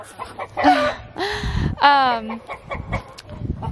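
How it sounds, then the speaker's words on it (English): Chickens clucking close by in short, bright bursts with harmonic calls, mixed with some indistinct voice-like sounds and background noise. "Those little chickens are like the cutest little things ever."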